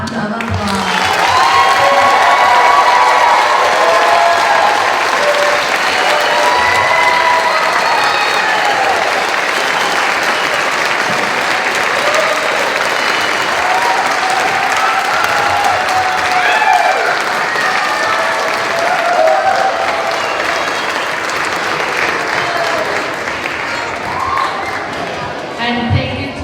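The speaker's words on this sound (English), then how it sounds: "giving our third graders one more big round of applause" Sustained applause from a school audience for third graders at an elementary school Memorial Day event, steady and loud throughout with a crowd murmur and scattered shouts.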